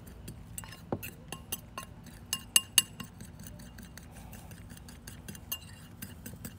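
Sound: mixing curried leg of lamb ingredients in a bowl

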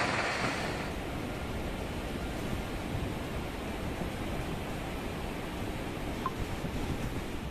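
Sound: flooded Alaknanda river rushing after heavy monsoon rain

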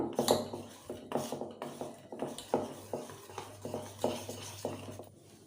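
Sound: stirring cake batter with vanilla essence in a bowl

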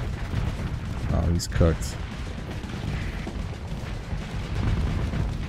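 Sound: missile fire and explosions from the video game Starsector

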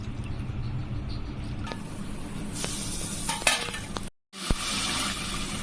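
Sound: tamarind juice being poured into the pan

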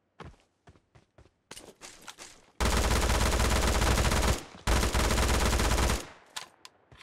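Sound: gunfire in PUBG Mobile, video game

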